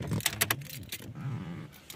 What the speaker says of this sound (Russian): Вставляем ключ.